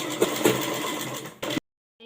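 A sewing machine stitching fabric with a half-inch seam margin runs in a steady close-up whir for about a second and a half, then stops abruptly and briefly restarts.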